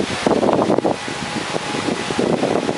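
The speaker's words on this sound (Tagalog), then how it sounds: "Grabe ang hangin." Strong typhoon wind from Typhoon Agaton in 2014 roars over a squash patch on Paradise Island, Buangan, in loud, gusting rushes that buffet the microphone.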